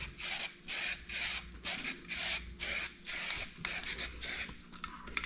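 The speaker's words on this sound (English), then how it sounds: "And this is regular Rust-Oleum undercoating, nothing special." Regular Rust-Oleum undercoating sprayed from an aerosol can onto the wheel well of a 1977 Chevrolet Camaro, rhythmic bursts of loud hissing spray with short gaps between passes, close to the can.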